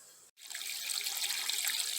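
Water in an aquaponics grow bed drains through a siphon, a steady bright trickling and gurgling rush starting after a brief silent break and continuing close and moderately loud with no talking.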